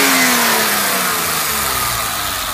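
A 1990 BMW 325i Touring's engine revs up loudly close by, the pitch climbing and then easing back down as the throttle is released, with no talking.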